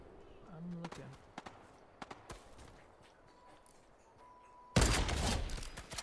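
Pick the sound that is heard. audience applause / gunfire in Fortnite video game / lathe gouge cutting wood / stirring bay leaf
gunfire in Fortnite video game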